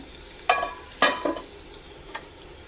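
Radish pieces frying in a pan with a soft background sizzle, punctuated by a few sharp scraping stirs of a spatula, close up and alone.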